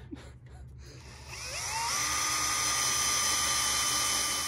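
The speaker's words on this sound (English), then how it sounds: "You might notice I'm using my acrylic drill right now, and this is a very special drill that has a certain point to not crack acrylic as it drills it" A drill with an acrylic-specific bit bores into acrylic and wood while a fighting-robot arena is being built, its high whine ramping up after a second and then holding steady and loud.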